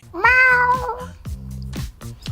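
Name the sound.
human imitating a cat meow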